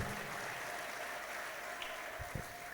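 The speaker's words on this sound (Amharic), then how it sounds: "አጨብጭቡና ፍቅራችሁን ግለጡላቸው።" Faint, distant applause from an audience at a church gathering holds as a soft, even patter throughout, with no voices over it.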